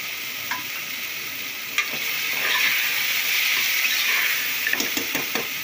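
Carrots and soya chunks sauté in a pan for vegetable nonbu kanji, a loud, close, steady sizzle with scraping stirring strokes and no voices.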